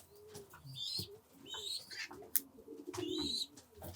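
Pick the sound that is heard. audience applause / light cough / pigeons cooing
pigeons cooing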